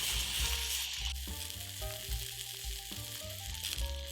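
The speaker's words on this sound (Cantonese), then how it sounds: "跟住將春雞有皮嗰一面先放落鑊度，咁咧煎到佢金黃色。" A spatchcocked spring chicken sears skin-side down in an oiled wok, sizzling loudly and steadily with a constant hiss that shifts slightly in intensity.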